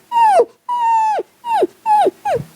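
A man imitates a dog barking and whimpering with his voice, giving five loud, close, yelping barks with short gaps between them and no other sound.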